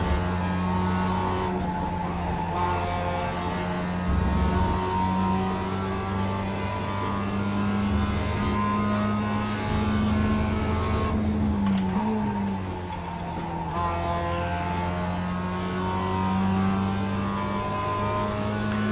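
A racing car engine in a racing video game, revving steadily through the gears with pitch rising and falling, continuous and close, with a brief tire squeal near the middle.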